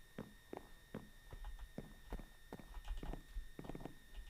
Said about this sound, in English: It sounds like a horse.